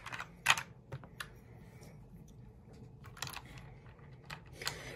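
Lubed keyboard space bar, greased with Vaseline, pressed a few times, giving soft separate clacks and thumps with quiet gaps between them, close up and fairly faint.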